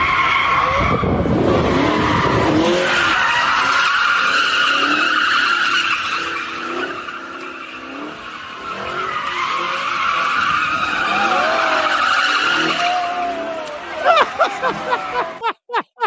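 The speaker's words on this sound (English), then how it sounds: "they go and they take over an intersection, and they do wheelies and donuts and stuff" Cars at a street takeover spin donuts, with long loud tire squeals and skidding over engine roar, a crowd murmuring in the background and sharp bangs near the end.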